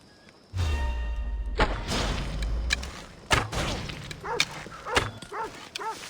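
A dog in the Assassin's Creed Odyssey video game gives a few close barks and yelps among thuds and combat noise, with brief talk in between.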